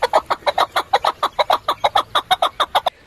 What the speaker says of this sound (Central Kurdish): با لە ڤیدیۆی سپێکتۆگرامەکەمدا دەنگی کەو ببیستین